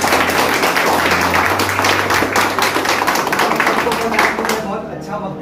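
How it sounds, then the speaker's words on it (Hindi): A gathered audience gives loud, continuous applause for Vikas sir at a family celebration, with voices mixed in throughout. "सबसे पहले तो विकास सर के लिए जोरदार ताली।"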